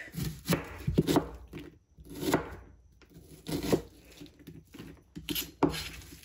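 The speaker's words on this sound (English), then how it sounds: "Chop up onion real quick." Knife chopping an onion on a cutting board in quick close-up bursts of sharp chops with short breaks between them.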